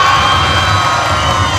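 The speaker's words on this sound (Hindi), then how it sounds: "एक बार जोर से चिल्लाकर ताली हो जाए।" A crowd at a 2019 church convention in Bindhanpali, Odisha, shouts and cheers in a loud, continuous roar that stays dense and close for the whole moment.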